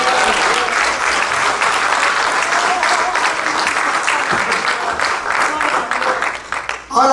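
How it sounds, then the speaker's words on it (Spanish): A church congregation applauds, a thick sustained roar of clapping filling the room. It stays loud for several seconds, overlapped by a voice speaking, then thins out toward the end. "Denle un aplauso al Señor"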